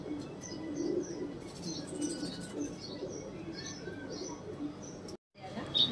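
A pair of golden dub pigeons coos in soft repeated low calls, faint and close-ish, with chirps and background noise and a brief dropout near the end.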